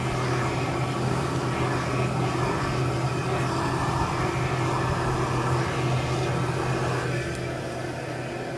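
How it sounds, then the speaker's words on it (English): Hand dryer built into a sink in a luxury restroom, blowing with a steady loud whooshing roar close by, easing off slightly near the end. "And right built into the sink, a hand dryer."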